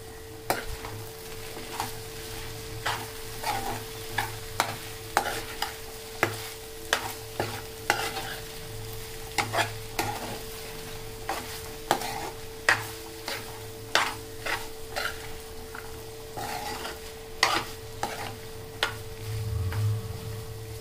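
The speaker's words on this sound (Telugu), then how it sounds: "బెండకాయలు అయితే బాగా వేగిపోయినాయి." Okra pieces frying in a pan with a steady soft sizzle, punctuated by regular clinks and scrapes as they are stirred, close-up with a faint hum underneath and no talk.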